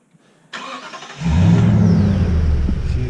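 A 2018 Toyota Tundra with a Flowmaster Outlaw exhaust cranks and fires up, settling into a loud, deep, steady idle rumble close by.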